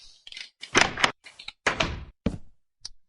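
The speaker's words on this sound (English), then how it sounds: "you can use a pressure plate right next to the door" A Minecraft door triggered by a pressure plate, heard as a series of short clicks and thunks of opening and closing in quick irregular succession, crisp and close.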